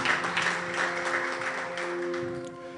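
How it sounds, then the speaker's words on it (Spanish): A church congregation applauds the Lord during a Spanish-language service, a steady continuous wash of clapping with a sustained musical tone beneath, moderately loud throughout. "Y dale otro fuerte aplauso al Señor el día de hoy."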